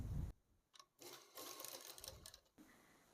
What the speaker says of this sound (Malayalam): എന്നിട്ട് ഇതിലേക്കൂടി സ്റ്റിച്ച് ചെയ്ത് വന്ന് ഇവിടെ സ്റ്റോപ്പ് ആക്കാം കേട്ടോ